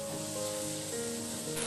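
Curry leaves hit hot oil in a pan while making a simple tomato stew, giving a steady close sizzle and hiss for a couple of seconds with no voices.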